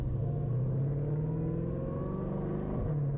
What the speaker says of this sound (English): Downshifting the first gear.